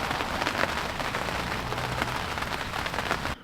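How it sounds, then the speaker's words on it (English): Rain falls on a lake with a dense, steady hiss of countless drops pattering close by. It holds constant for a few seconds, then cuts off abruptly at the end. "It's raining."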